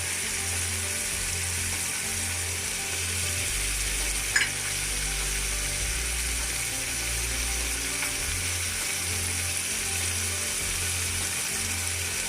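Green chilies and coriander leaves are stirred into a sizzling cauliflower mutton curry, a steady close frying hiss with soft stirring scrapes and one brief clink, no talking.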